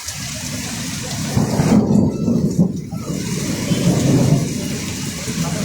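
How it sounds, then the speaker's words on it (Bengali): Heavy rain pours down in Kolkata with thunder rumbling through it, a dense, steady roar of falling water that swells louder in the middle and carries on without a break. "দুর্দান্ত বৃষ্টি বন্ধুরা, দুর্দান্ত বৃষ্টি।"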